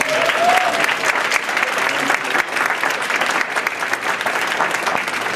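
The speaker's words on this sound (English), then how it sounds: "if we could give a round of applause to the commish" Sustained, loud applause from a room of attendees at a Colorado women's legislative breakfast, honoring the commissioner; dense, steady clapping fills the whole stretch with a faint crowd murmur and no clear talk.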